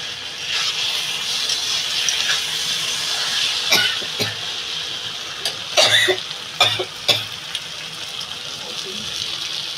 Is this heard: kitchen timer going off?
no